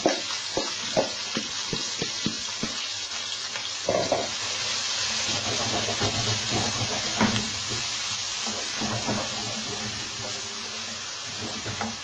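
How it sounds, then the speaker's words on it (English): Onions, peppers and chilli tipped into a hot pan with popping cumin seeds set off a loud, steady sizzle and hiss, with scraping stirs and clacks of a utensil against the pan nearby; no talking. "So I'm now going to add my onions, peppers and the chilli."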